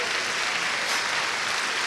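Church congregation applauding, a dense, steady wash of clapping from many hands sustained without pause.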